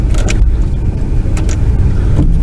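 A vehicle rumbles loudly and steadily over rough, uneven ground while out watering newly planted trees, with low engine drone and intermittent rattles and knocks from the bumpy terrain.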